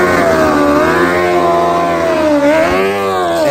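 A drag bike motorcycle at a drag race revs loud and close, its engine note rising and falling with strong harmonics in one sustained roar.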